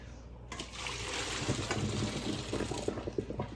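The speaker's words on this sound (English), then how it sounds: "I'm gonna run cold water over it." Cold tap water gushes steadily over pasta in a strainer, a continuous splashing rush that starts abruptly and stays loud and close.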